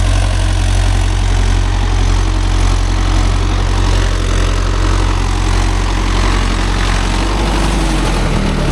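Mahindra Yuvo Tech Plus 585 4WD DI tractor engine pulling a five-point cultivator through a damp field, a steady loud diesel drone with a deep low rumble that holds constant throughout, no voices.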